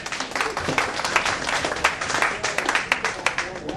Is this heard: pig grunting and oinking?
no